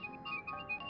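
A telephone rings with a quiet, repeating electronic ringtone: steady high tones pulsing on and off in a short rhythmic pattern, with no voices.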